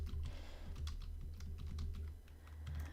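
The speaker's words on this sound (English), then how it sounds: "Switch back to my English keyboard." Someone types on a computer keyboard, a quiet, close run of rapid irregular key clicks over a low steady hum, with no one speaking.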